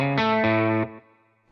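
Distorted electric guitar through a Fractal FM9/Axe-Fx III preset with a pedal compressor plays a few loud sustained chords in a quick rhythm, then lets the last one ring and decay.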